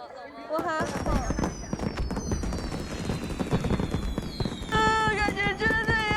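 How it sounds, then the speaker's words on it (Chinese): Fireworks burst at an outdoor winter farewell gathering, a steady run of crackling pops and whistling streaks filling the air, with people talking and calling out over the display. "大家一起看烟花吧"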